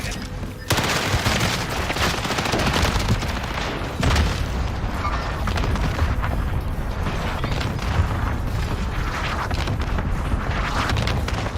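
Continuous loud video-game gunfire in a multiplayer shooter, with dense automatic bursts and booming impacts that fill the whole stretch, overlaid by game voice lines.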